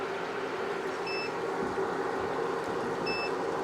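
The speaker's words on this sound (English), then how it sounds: "So I hear this beeping, so it's probably not gonna maintain that for very long." A DJI Power 1000 portable power station beeps under overload, drawing about 2300 watts, past its output limit: two short, faint electronic beep pairs about two seconds apart over a steady background hum.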